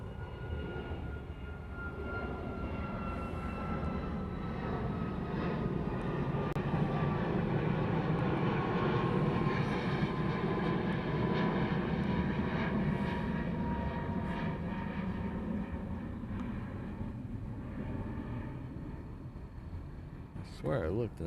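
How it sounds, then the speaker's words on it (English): A Southwest airliner on the reef runway at Honolulu airport gives a steady, loud jet roar that holds evenly for about twenty seconds, with faint tonal whines riding over the broad rumble. "There's a Southwest down there on the reef runway as well. It's heading off to San Diego."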